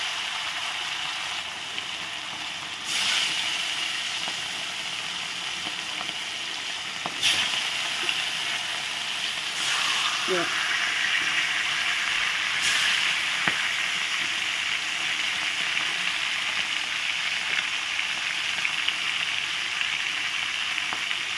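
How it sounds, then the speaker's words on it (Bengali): Pieces of bhola fish fry in oil with a continuous even sizzle, broken by a few sharp bursts and a brief clink as pieces are moved. "আবার আরেকবার ভাজতে হবে অনেকগুলো মাছ।"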